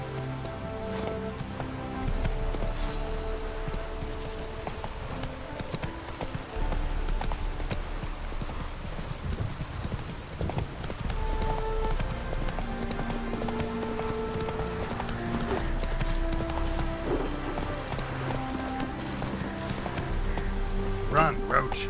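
Hooves of the horse Roach clip-clop at a steady run in The Witcher 3: Wild Hunt, layered under continuous orchestral game music, with someone talking over much of it.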